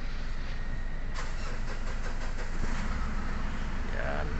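A Mitsubishi Montero Sport with a low-power fault linked to its suction control valve cranks and fires up, settling into a steady, loud engine roar with no talking.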